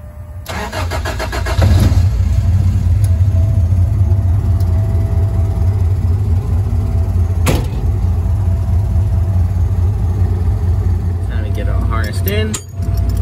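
A race car engine cranks and fires up, then settles into a loud, steady, rumbling idle for several seconds with a sharp click partway through and faint handling noises near the end.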